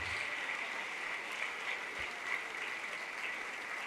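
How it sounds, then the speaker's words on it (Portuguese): Church congregation applauding during a sermon, a steady, fairly faint wash of clapping heard from a distance throughout. "vamos aplaudir mais ao nome de Jesus"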